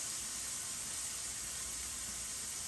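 Tapado cooks in a pan with a steady, faint hissing sizzle that stays even and continuous, with no talk.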